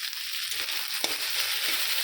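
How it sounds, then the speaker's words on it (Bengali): Ginger-cumin paste frying in a mustard seed tempering for a sour mango fish dish, giving a steady, close hiss of oil with a brief stirring scrape partway through and no talking. "একটু আদা জিরা বাটা দিয়েছি"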